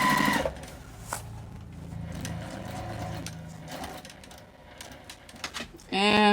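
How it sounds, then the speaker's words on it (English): A domestic sewing machine stitching down the edge of a jelly-roll fabric tote bag, a rapid mechanical whir running under a woman's speech, with a louder tonal burst at the start and end. "we're just going to sew down the other edge"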